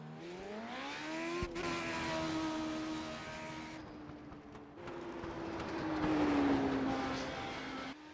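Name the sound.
race car engine accelerating on track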